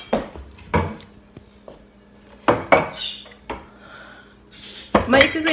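Dishes, pots and cutlery being put away in a home kitchen, with sharp close clatters and clinks in irregular bursts separated by quiet pauses, and a voice speaking briefly between them.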